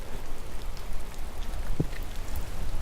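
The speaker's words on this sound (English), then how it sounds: "right now I'm getting rained on" Steady rain falls outdoors, a close, even patter on surrounding surfaces that lasts the whole stretch without any voices.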